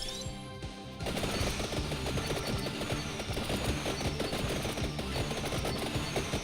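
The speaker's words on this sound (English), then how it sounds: "my weapons actually shoot out like a machine gun style" Continuous rapid, machine-gun-like weapon fire from the game Vampire Survivors, a dense rattling stream of shots running steadily through most of the stretch over busy game sounds.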